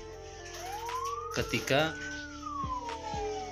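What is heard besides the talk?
ambulance siren from a faulty siren module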